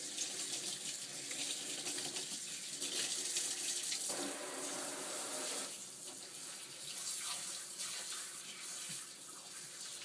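Tap water runs steadily over a cat being rinsed during grooming, a continuous close splashing stream with shifting tone as the flow is worked through the fur.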